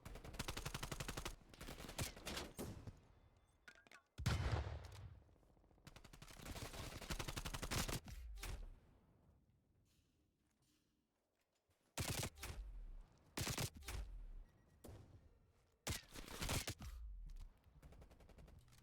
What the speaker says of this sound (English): And he gets gunned down by Ice.